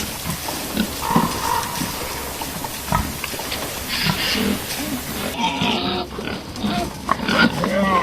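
Wild boars grunt and snort in bursts, close and fairly loud, while a person talks over much of the sound.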